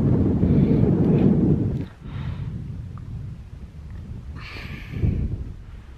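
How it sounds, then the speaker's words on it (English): Wind gusts across a Colorado mountain pass in the Sangre de Cristo range, a loud, rough rumble buffeting the microphone that drops off briefly, then returns in softer waves with one stronger burst near the end. "It's getting windy here."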